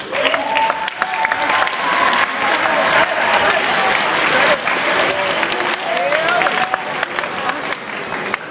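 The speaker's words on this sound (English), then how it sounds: "I wanted you to give yourselves a huge round of applause" A school variety show audience gives a sustained, loud round of applause, dense clapping with cheers and whistles threaded through it, steady for the whole stretch.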